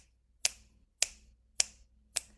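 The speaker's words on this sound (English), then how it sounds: "Now you're moving to snaps." Four crisp finger snaps, evenly spaced about half a second apart, close and clear against near silence.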